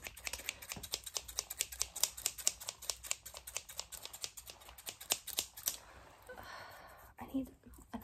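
Rapid, crisp scissor snips cutting hair repeat in quick bursts close up, then stop, leaving soft rustling and a faint breathy sound.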